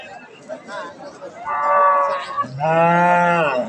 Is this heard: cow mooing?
yes